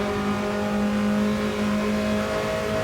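Mini Cooper S race cars race at Watkins Glen with loud, droning engines that hold steady, high-pitched notes as the pack runs close together, with no voices over it.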